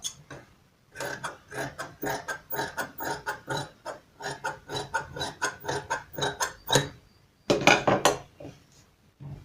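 Scissors snip through blouse fabric along a drawn round neckline in a run of quick, close, crisp cuts, pausing briefly before a final few snips.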